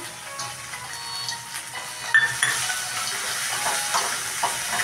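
Mint and coriander leaves frying in a pan for carrot fried rice, giving a steady soft sizzle with light stirring and occasional utensil clinks against the pan throughout.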